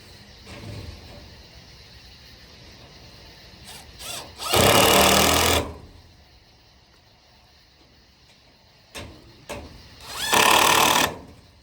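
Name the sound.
power tool grinding off a piece of hardware cloth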